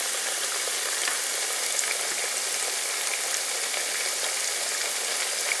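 Eggplant slices fry in a pan over high heat, giving a steady, continuous sizzle with fine crackles close by and no talking.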